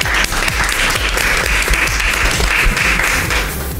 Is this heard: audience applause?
yes